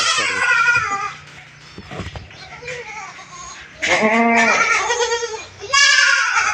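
Fifteen-day-old goat kids resting in a pen on a goat farm let out loud, wavering bleats at the start and again in two bursts later, with quieter rustling and faint farm noise between.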